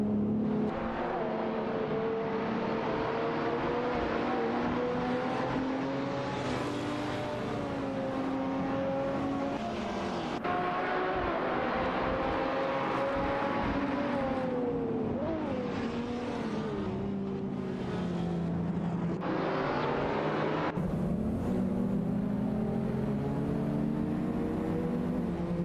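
AI-driven race cars roar around a track in a racing video game, with engines continuously droning and shifting pitch as they accelerate and change gear. The sound is dense and steady throughout, with no talking.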